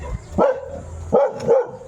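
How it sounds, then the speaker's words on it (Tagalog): A dog barks three times in quick succession, short sharp barks fairly close by, with no talking. "Ang ingay ng aso mo."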